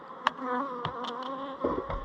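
Honey bees buzzing around a pulled hive super, a few close drones weaving in and out with sharp brief passes over a low steady hum, no voices.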